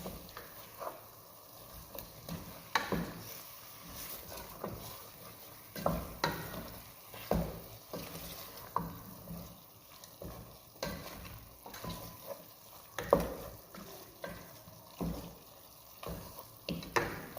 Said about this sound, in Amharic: ይህን እንደዚህ ከቅመሙ ጋር ቅመሙ እንዲገባው ጠብሰዋለሁ አብሬ